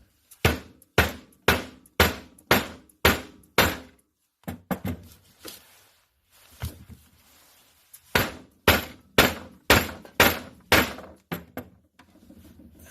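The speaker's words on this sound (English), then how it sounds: "When you strike the blanks like that, they push out to the edge of the collar right here" Copper poker chip blanks struck inside a metal collar with a 1 1/4 inch dowel rod: a run of sharp, loud, evenly spaced metallic hits, a brief pause with softer knocks, then another steady volley of strikes.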